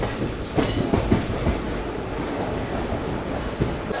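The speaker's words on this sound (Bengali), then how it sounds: "আর এই হচ্ছে কোলাঘাট রেল স্টেশন" A train rumbles steadily along the tracks at Kolaghat railway station, wheels clattering in an uneven rhythm, loud and close, with no voices.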